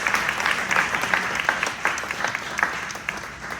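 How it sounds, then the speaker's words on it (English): Audience applause for the candidates at a Boulder progressive Q&A event for Colorado legislature primary candidates: steady, dense clapping from a sizable crowd, moderately close, sustained for the full stretch with no voices over it. "Another round of applause."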